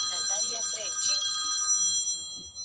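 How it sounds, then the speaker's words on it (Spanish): Telephone ringing with a bright electronic trill during a live broadcast, steady repeated tones at moderate level with faint speech underneath, fading out near the end. "Perdón, sonó el teléfono."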